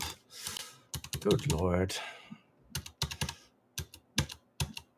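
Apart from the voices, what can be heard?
typing on a computer keyboard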